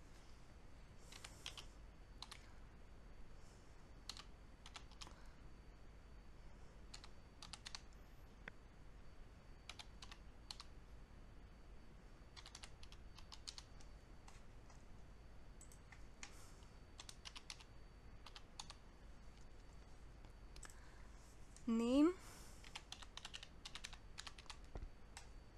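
A serial number and control number being entered on a computer keyboard during a software installation: scattered, quiet clicks of keys in short bursts and single taps, with a brief squeak near the end and no talking.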